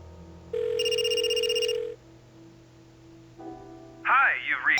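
A telephone rings in the Blackwell adventure game: a steady electronic two-tone ring holds for more than a second, then a quieter tone lingers before a burst of speech.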